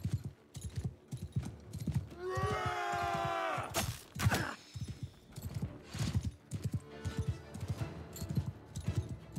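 Rhythmic hoofbeats clip-clop steadily throughout from the video game Mount & Blade II: Bannerlord, with a horse's whinny rising briefly near the start amid game background sounds.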